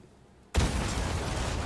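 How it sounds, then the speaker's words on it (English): A rocket launcher blast against boulders in Resident Evil 4 Remake breaks in abruptly after a quiet moment as a loud, broad roar that holds steady to the end. "You can use the rocket launcher on the boulders too instead of getting the dynamite."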